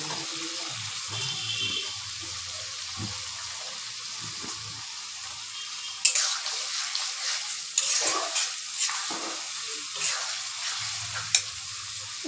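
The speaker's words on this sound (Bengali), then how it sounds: "এবার দিয়ে দিব আমি ভেজে রাখা আলুগুলো" Fried potatoes drop into sizzling masala in a pan for mocha ghonto with Gobindobhog rice. A low hiss gives way midway to a sudden loud burst of sizzle, then continued frying and scattered stirring clatter without speech.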